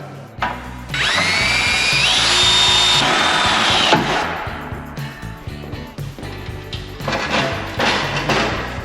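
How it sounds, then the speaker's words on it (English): A power drill whines loudly, its pitch climbing as it drills out a stuck bolt on a 1930 Dodge DD6 coupe. It stops abruptly, followed by clanking and handling noises. "Won't come out, drill it out."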